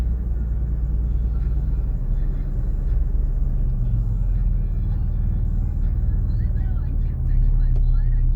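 Car engine idling and pulling off slowly near a cemetery, a steady low rumble close by, with people talking over it.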